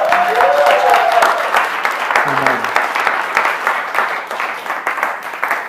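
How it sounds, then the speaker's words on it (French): A church congregation applauds steadily and loudly for several seconds, with a voice speaking briefly over the clapping near the start before the applause carries on alone. "On peut applaudir le Seigneur?"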